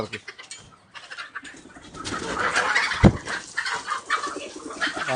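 Several chickens cluck and murmur nearby, with a sharp knock partway through and scattered movement noises.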